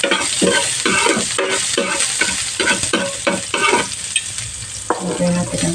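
Lumpia frying in hot cooking oil, a loud steady sizzle up close, with repeated rhythmic stirring or scraping in the pan over it and no talking.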